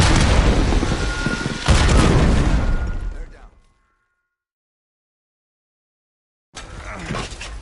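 Loud, dense video-game combat blasts from a grenade and an RC-XD explosive car, a thick roar of booms that cuts off into sudden silence, then heavy noise returns near the end; voices call out during the action.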